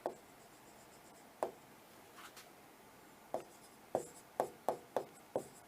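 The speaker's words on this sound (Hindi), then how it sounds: "साथ साथ दोस्तों एक क्वेश्चन और लिख रहा हूं।" Chalk or marker taps and strokes on a board as a math question is written, a sparse series of short, quiet knocks and scrapes, clustering more quickly toward the end.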